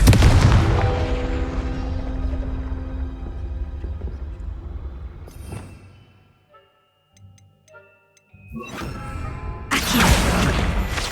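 Spell blasts from the Confringo fire spell in the video game Hogwarts Legacy: a loud, rumbling explosive burst that fades out, a quiet gap with faint chimes, then another sharp, noisy blast near the end.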